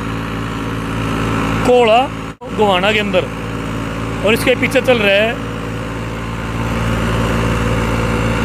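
A tractor pulling a National 7-foot super seeder through a field drones steadily with a low engine hum. Someone talks over it for a while, then the machinery carries on alone.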